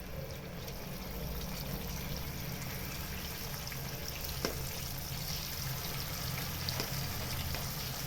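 Fish frying in hot coconut oil for a Tamil fish fry gives a steady, dense sizzle and crackle throughout, with faint occasional pops, close by and quiet, with no speech.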